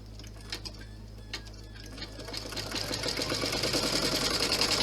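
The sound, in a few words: sewing machine stitching a zigzag then satin stitch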